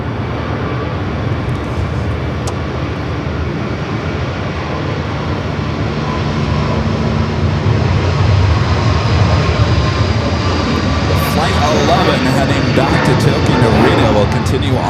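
A Singapore airliner takes off at LAX, its jet engines roaring loud and steady throughout and building slightly toward the end, with radio chatter over the top.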